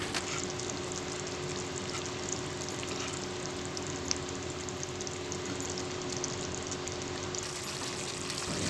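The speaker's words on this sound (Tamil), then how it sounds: "5 மினிட்ஸ் நல்லா குழம்பு கொதிக்க விடுங்க" Steady bubbling and light sizzling from egg curry simmering in a pan on the stove, a continuous soft crackle with no voices.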